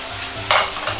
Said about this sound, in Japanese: 卵を鍋の中に流し入れます。